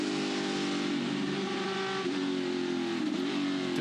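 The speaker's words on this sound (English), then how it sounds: "Just getting the chip there for a little bit as well on the rev limiter." A touring car engine at the Adelaide circuit during a race, held hard against the rev limiter: a steady, loud, buzzing drone with a slight stutter, heard from inside the car with no talking.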